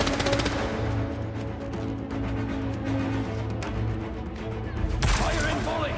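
Gunfire volley in the Marvel's Spider-Man 2 video game: dense, sustained rapid shooting with a heavier burst near the end, under a steady bed of game sound and talk.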